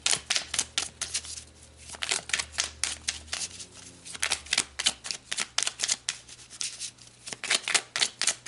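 Tarot cards are shuffled and pulled, giving rapid clicking riffles that come in bursts with short pauses between them, close and fairly loud, with no talking.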